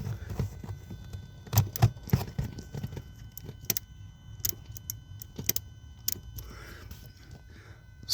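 A car heater valve works quietly, giving scattered small clicks, ticks and light mechanical rattles over a low hum, with a few louder knocks in between.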